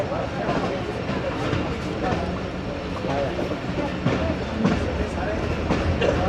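A train rolls slowly through Gojra railway station, producing a steady, moderately loud rumble with faint clanks of carriages on the track.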